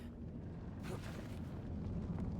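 Ground rumbling and shaking in the video game Indiana Jones and the Great Circle: a steady, heavy low rumble that holds at an even level for a couple of seconds, with a brief hissing swell partway through.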